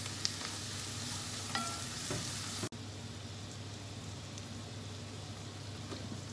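Hotdog or sausage sizzles in a pan with garlic and onion for sopas with corned beef: a continuous frying hiss with a few light taps, and one sharp knock partway through before the sizzle carries on slightly quieter.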